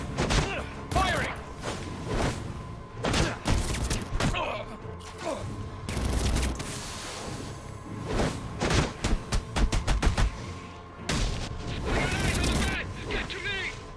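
Bursts of gunfire ring out in Batman Arkham Origins, loud repeated shots and thuds over a busy game soundtrack, with game voices calling out between volleys.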